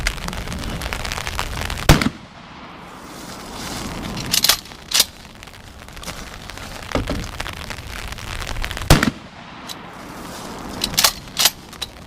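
A Remington 870 shotgun fired one-handed from around a vehicle during a shootout: several sharp, loud reports spaced a few seconds apart, with rattling and clattering between shots.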